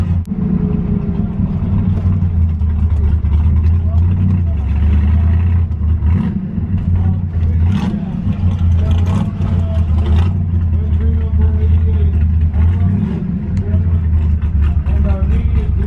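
A Shelby GT350 driving at about 4,750 feet altitude, its engine giving a loud, steady low drone with a slight rough idle, heard from inside the car, with occasional speech.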